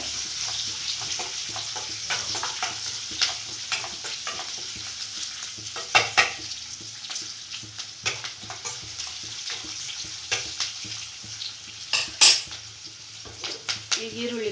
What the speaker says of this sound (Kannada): ನಾನು ಈರುಳ್ಳಿ ಹಾಕ್ಕೊಬಿಟ್ಟೆ ಈಗಲೂ ಏನು ಪರವಾಗಿಲ್ಲ ಈಗಲೂ ಫ್ರೈ ಆಗುತ್ತೆ